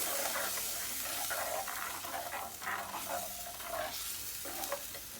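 Fish curry with ground paste, tamarind and tomato sizzles in a pan while being stirred, a soft, steady frying hiss broken by irregular scraping stirs, fairly quiet and close with no talking.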